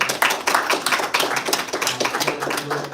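An audience gives a warm round of applause to a journalism panel, dense continuous clapping from many hands, loud and close, with a faint voice underneath.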